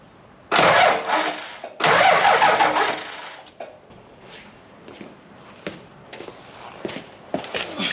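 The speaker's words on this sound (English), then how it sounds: "I'll give it a crank," A 1985 Toyota Land Cruiser engine, long left sitting on a farm, cranks over in two loud starter bursts of about a second each without firing, followed by quieter clunks and shuffling nearby.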